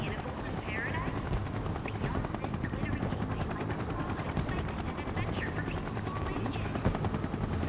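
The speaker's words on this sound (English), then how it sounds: "So that's what the helicopters are for." Helicopter in the video game Final Fantasy 7 Rebirth, a constant rapid rotor chop under game music and talking.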